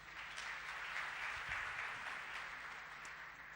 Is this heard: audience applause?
yes